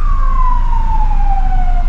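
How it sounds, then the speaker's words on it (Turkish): An ambulance siren wails loudly as a steady, slowly falling tone over a deep engine rumble, pushing through congested city traffic in Bursa. "sıkışık Bursa trafiğinde ambulans ilerlemeye çalışıyor"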